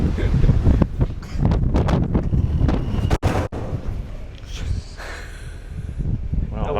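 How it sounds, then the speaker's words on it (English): Strong gusts of wind on a cruise ship deck at sea buffet the microphone in heavy, uneven roars, loud and close, with a few sharp knocks and faint voices underneath. "Well, that was windy."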